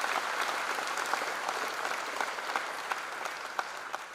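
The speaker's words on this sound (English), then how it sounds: "Let's welcome him, make a loud applause." Steady, dense applause from an audience at a college freshers' induction program, welcoming a chief architect of a global citizen program, sustained at a moderate distance with a few sharper individual claps.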